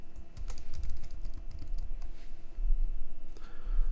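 Steady, close typing on a computer keyboard while entering an account password, with quick irregular keystrokes and no talking.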